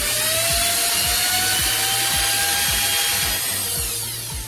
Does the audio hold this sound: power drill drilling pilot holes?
yes